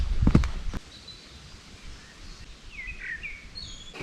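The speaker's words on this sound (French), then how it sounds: "je profite du chant des oiseaux que j'apprends à reconnaître" Birds chirp and call faintly in a forest during a hike, with a few short high calls near the end over a quiet background, after a couple of soft thuds from footsteps at the start.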